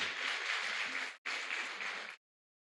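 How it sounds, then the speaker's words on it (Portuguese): Sustained audience applause during a church sermon, a dense wash of many hands clapping, briefly cut off mid-way, then resuming before stopping abruptly. "Pode aplaudir, pode aplaudir, pode aplaudir."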